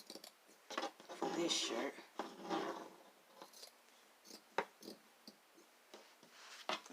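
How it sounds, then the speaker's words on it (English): Scissors snip fringe strips into a T-shirt fabric in a run of short, close cutting sounds and rustles, with a brief spoken remark near the start. "So I'm going to go ahead and finish all my cut lines"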